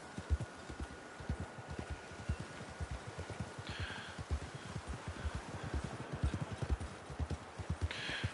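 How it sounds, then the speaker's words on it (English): Horse galloping in Red Dead Online, steady rapid hoofbeats pounding in an even rhythm at close range, with a couple of faint bright chimes in the background and no speech. "she seems to be keeping a pretty good gallop here"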